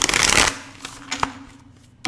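Tarot cards are riffled in a short, close shuffle, a dense flutter of card edges that ends abruptly, then a few soft taps and a last snap.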